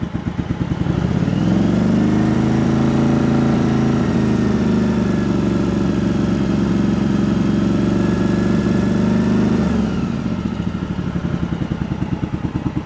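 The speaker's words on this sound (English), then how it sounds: "Let's rev it up first." A Yamaha Virago 1100 V-twin with carburetors being synced revs up loud and close, rising from idle to a sustained higher rumble for several seconds before dropping back toward idle, with no voices.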